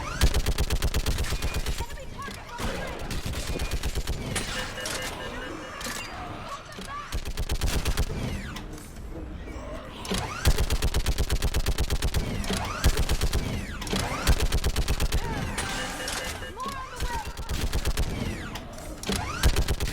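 Rapid, sustained turret gunfire from a mounted gun in a Halo-style shooter battle, loud bursts of repeated shots with brief pauses, mixed with mechanical clatter and game sound effects throughout.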